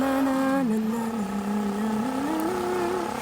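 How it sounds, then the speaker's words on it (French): Cartoon motor hum of Barbie's stylish red scooter riding through town, a steady buzzing engine tone that rises and falls slightly in pitch, loud and continuous throughout. "Barbie se balade en ville sur son super scooter rouge très mode."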